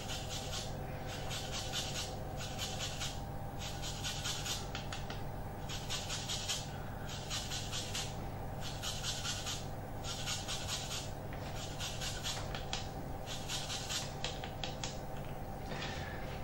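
Lime peel zested on a grater in a kitchen, a steady series of quick rhythmic scraping strokes, fairly faint, with no talking.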